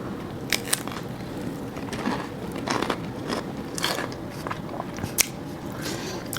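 Crisp bites and crunchy chewing of fried Korean flautas with gochujang sauce, several sharp crunches spread across the clip up close, no talking.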